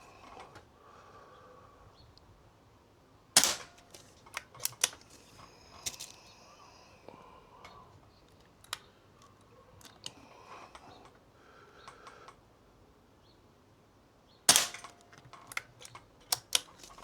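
Shots from an S400 air rifle strike a metal paddle target, giving two sharp, loud impacts several seconds apart among scattered lighter clicks and taps, with no talking.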